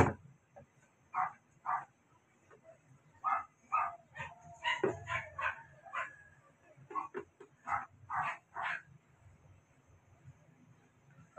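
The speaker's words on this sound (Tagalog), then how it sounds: "Kasi meron akong aso." A dog barks in short, repeated bursts with irregular gaps, some yips and whimpers mixed in, moderately close and otherwise quiet between barks.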